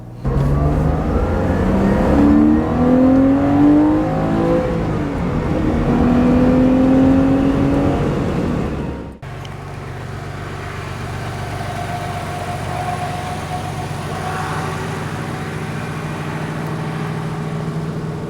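Porsche Boxster engine running on a test drive after an engine repair, a steady loud cabin drone with rising and falling revs in the first half, then a smoother constant cruising hum with lower rumble.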